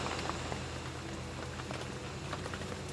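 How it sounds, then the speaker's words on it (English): Steady rain from Storm Agnes patters continuously on surfaces outdoors beside a carp fishing pool, a dense, even hiss of drops with no talking. "Although the wind is still strong, the rain is easing off a tiddly bit."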